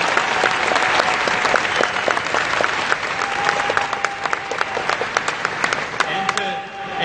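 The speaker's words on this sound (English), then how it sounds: "I want us to first give a huge round of applause to the Politicon staff and crew" An audience at Politicon in downtown Los Angeles claps hard and long, a thick, rippling wall of applause with sharp individual claps and scattered whistles, tapering slightly near the end.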